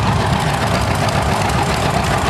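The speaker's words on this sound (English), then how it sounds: "A Massey Harris 55 with the V8." A Massey Harris 55 tractor fitted with a V8 engine idles at a tractor show, giving a steady, loud, rumbling drone with no talking.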